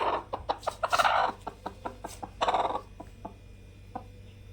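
A native country hen being set on eggs to brood clucks repeatedly in short, close bursts, with a louder run of agitated clucks, then sparser clucks trailing off against a quiet background hum.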